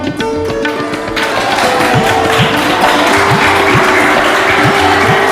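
Steady, dense applause from a crowd at a school prize-giving assembly in a gurukul, filling the hall continuously, with low sustained tonal music running underneath.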